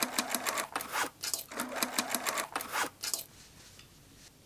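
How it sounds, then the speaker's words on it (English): A sewing machine stitches a denim handbag made from old jeans, running in short bursts with brief pauses between them, close and fairly quiet, then falls into quieter handling noise at the end. "edge stitch it closed on the sewing machine"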